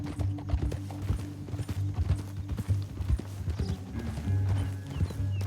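Horses gallop in the open-world Western game Red Dead Redemption 2, a dense, loud clatter of hooves with a brief neigh, heard close and continuous with no talking.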